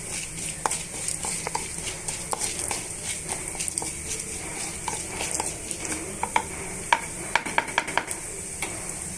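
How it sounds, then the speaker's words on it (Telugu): Mustard seeds, chana dal and other tempering ingredients frying in a pan for green chili chutney, a steady close sizzle with frequent sharp pops and crackles and occasional stirring scrapes, no talking. "ఇప్పుడు ఇవన్నీ కూడా బాగా వేయించేస్తున్నాను"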